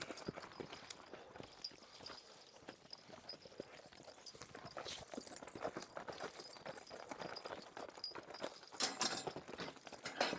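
A hitch of harnessed horses' hooves clop steadily on the ground at a walking pace, with faint jingling of harness, close and continuous.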